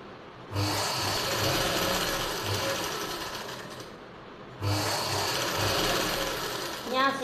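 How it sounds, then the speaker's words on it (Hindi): A sewing machine stitches a strip onto the neckline of a silk suit in two close, steady runs of rapid needle clatter separated by a short pause. "इस तरह से पट्टी को हम ऐसे रखेंगे और इसके पास से ही सिलाई लगा लेंगे।"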